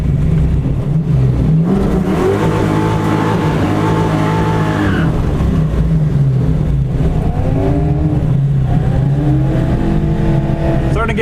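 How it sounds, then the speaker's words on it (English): A Ford Mustang spinning its tires in a burnout at a drag strip, the engine roaring loud and constant with rising and falling revs and tire squeal, with some voices underneath. "Starting to get good at this burnout thing."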